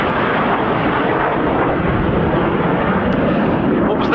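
Pair of BAC Strikemaster jets in a flying display at RAF Cosford, a loud continuous roaring jet noise as they pass overhead, steady throughout with no pause.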